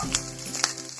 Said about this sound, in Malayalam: പച്ചമുളകിട്ട്